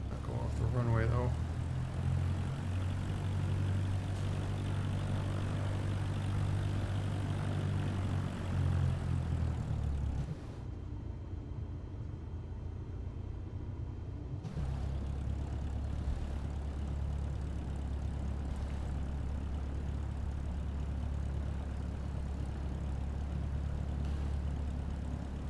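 A propeller aircraft taxis on the ground in Microsoft Flight Simulator, its engine a steady, moderately loud drone that dips briefly and then resumes, heard under a voice talking.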